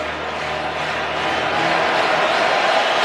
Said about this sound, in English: This amazing crowd. I think everyone in the ballpark is on their feet.